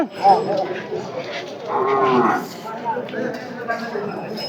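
A loud, drawn-out moo from a bullock sounds close by at a rainy cattle market, with a few shorter lowing calls and scattered voices around it.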